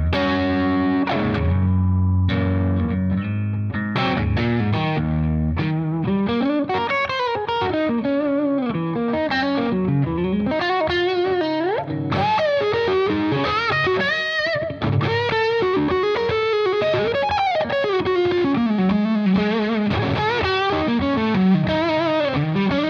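An electric guitar played through a Pro Co Rat distortion pedal on a blues setting, with a run of bluesy bends and licks that is loud, saturated and gritty, playing steadily for over twenty seconds with no voices.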